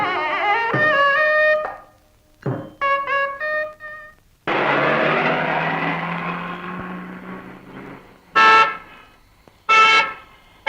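Several loud car horn honks, a long blast followed by shorter toots and two sharp bursts near the end, with traffic rumble between.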